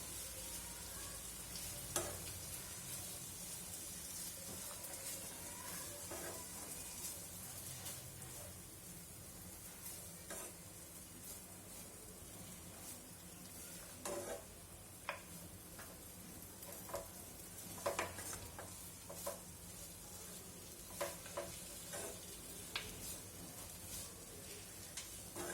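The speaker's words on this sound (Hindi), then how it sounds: "इसे अच्छी तरह मिक्स कर लें।" Puliyodharai tamarind rice mixture being stirred in a pan, a steady soft sizzle with scraping and clicking spoon strokes recurring irregularly throughout, fairly close and alone without talk.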